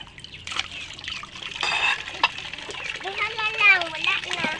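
Tap water runs and trickles while dishes are washed by hand at home, a steady close splashing stream with a child's and an adult's voices talking over it.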